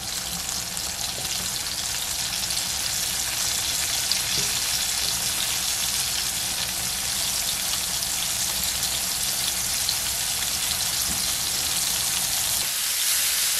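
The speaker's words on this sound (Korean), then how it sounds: "좀 한참 열에 놔두면 아래쪽이 바삭하게 튀겨지거든요. 튀기듯이 구워줍니다." Small freshwater fish coated and crisp-frying in hot oil in a pan give a steady, dense sizzle and crackle throughout, close and fairly loud, with no talking.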